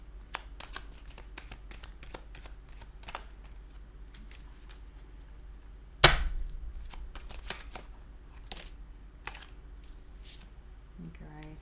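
Tarot cards are shuffled by hand to draw one last card, producing soft repeated riffling and flicking taps spread throughout, with one sharper slap midway, close and quiet in a calm room.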